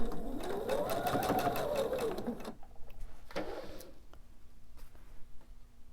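A sewing machine runs at close range stitching triangle pillow pieces, a steady whirring burst that rises and falls in pitch, then stops, followed by a few quieter clicks and shuffles.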